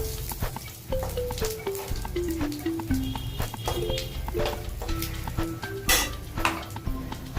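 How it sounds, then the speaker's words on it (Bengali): Whole cumin seeds fry in oil in a pan for a meatless lentil dish, a soft sizzle under frequent metal spoon clinks and scraping against the pan. "এটা একটুখানি ভাজাভাজি হোক"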